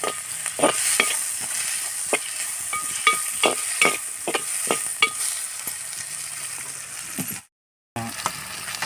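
A spoon stirs tomato and egg curry in a clay pot, scraping in rhythmic strokes roughly every half second over a soft steady sizzle, then stopping briefly before the frying continues alone.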